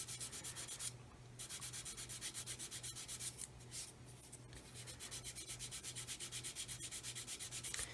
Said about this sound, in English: sanding the fuselage away to blend into the canopy